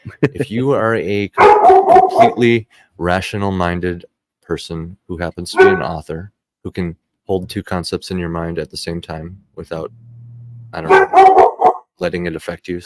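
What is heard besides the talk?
dog barking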